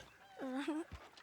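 Puppy in Red Dead Redemption 2 gives one short, high, wavering whimper, faint and close, followed by a soft thump, over a quiet background.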